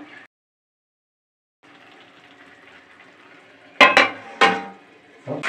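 A lid goes onto a pot of yam leaves and stalks cooking with a few loud metallic clanks and clinks after a quiet stretch with a faint low hum.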